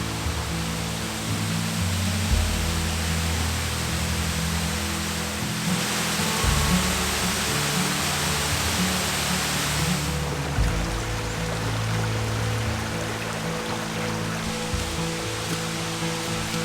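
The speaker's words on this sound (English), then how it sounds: "Waterfall." A waterfall on a hiking trail in Vermont roars steadily and loudly at close range, a dense unbroken rush of falling water that fills the whole clip with no voices over it.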